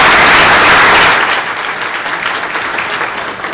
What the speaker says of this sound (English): I always get nervous when people clap when you get up.